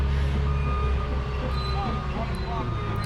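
Rapid repeating reversing beeps ring out from a skid steer on a flagstone walkway job, steady and fairly close over a constant engine rumble.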